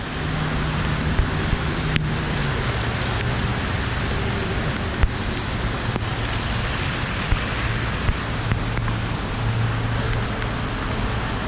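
Steady rain pours down in California with a constant hiss, a few sharper drips and taps scattered throughout, and a faint low hum beneath.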